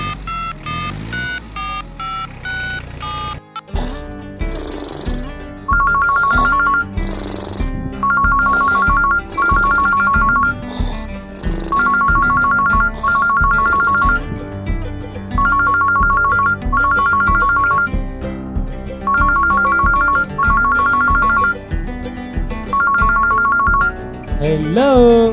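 A cartoon phone ringtone plays loud and steady, a repeating electronic melody in short bursts over bright backing music, with no talking.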